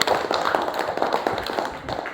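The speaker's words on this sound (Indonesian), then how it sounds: "tepuk tangan untuk semuanya dulu" Classroom of sixth-grade students clapping together, a dense patter of many hands in rapid irregular bursts, fairly close and moderately loud for a couple of seconds.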